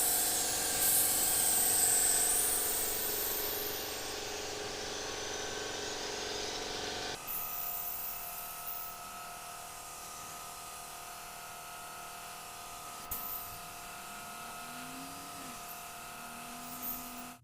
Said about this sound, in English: I'm using a pretty low air pressure, only about 15 psi.